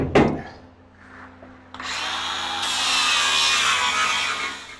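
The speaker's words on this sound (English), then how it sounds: "I need to grind that down so that it sits flat." A grinder grinds down a weld on the back of a metal firewood bundler, a loud, steady abrasive whine that starts after a short knock and a brief quiet lull, with no talking.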